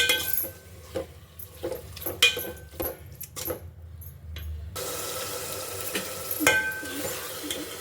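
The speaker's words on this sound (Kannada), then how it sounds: "ಆಮೇಲೆ ಸ್ವಲ್ಪ ಅರಿಶಿನ, ಮಿಕ್ಸ್ ಮಾಡ್ಕೊಳ್ಳಿ." Salt and turmeric being stirred into raw chicken in a home kitchen for chicken biryani, giving soft intermittent scraping and wet mixing noises that turn into a steady watery wash, heard alone with no talk.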